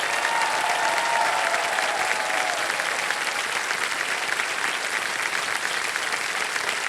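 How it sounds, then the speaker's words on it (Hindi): Studio audience on the KBC game show applauding loudly, a continuous dense wash of clapping from a large crowd, with a brief whistle-like tone early and a voice faintly beneath. "जोरदार तालियां सुभाष कुमार जी के लिए"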